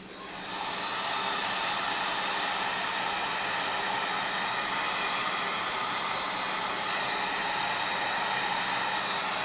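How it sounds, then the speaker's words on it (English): A heat gun blows steadily on 12 volt relay wiring, giving a continuous, even, loud rushing whir that holds at the same level from start to finish after a brief rise. "Get the heat gun."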